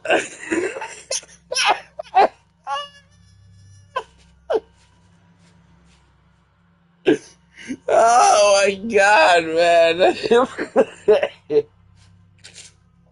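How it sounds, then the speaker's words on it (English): A man with a cold coughs and clears his throat amid strained, wheezy laughter, in bursts near the start and a dense run of laughing and coughing later, with brief spoken words in between. "that's what happens when you have a cold. The cough gets in your way of laughing."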